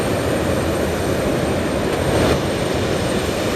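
A jet airliner bound for Auckland takes off from runway 19 left at Brisbane Airport in the evening, its engines a loud, steady, broadband roar that swells slightly midway, with no voices.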